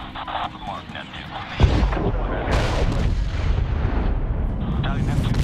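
A missile launch and heavy explosions in the Medal of Honor video game set in the Middle East: a sudden loud boom followed by a sustained roaring rumble of blasts under radio chatter.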